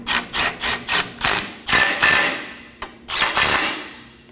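A ratchet snugs the nuts and bolt on a 2016-2020 Kia Sorento front left CV axle, giving quick repeated clicking bursts, some longer runs and a sharp single tap, loud and close with no talk.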